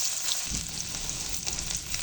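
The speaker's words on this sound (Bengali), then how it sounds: "এই তেলের মধ্যেই দিয়ে দেবো রসুন কুচি" Minced garlic sizzles and crackles steadily in hot oil left over from frying hilsa fish heads, a close, continuous frying hiss with no talk.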